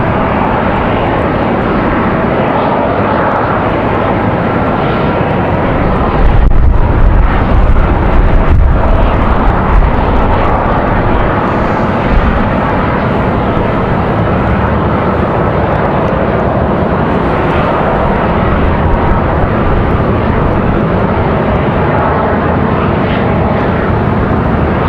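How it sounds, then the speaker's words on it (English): A United Boeing 737 Max 9 jet departs Raleigh Durham airport, its engines roaring loudly and steadily for the whole stretch, with gusty wind buffeting underneath and the thunder swelling slightly partway through. "This United actually up on flight radar. This one United 2407. This Max 9 off to Houston."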